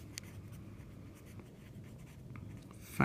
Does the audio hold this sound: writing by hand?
yes